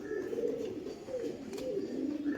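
Fancy Karna pigeons kept in a cage coo softly in low, rolling phrases that repeat throughout, over a constant background hiss with no speech.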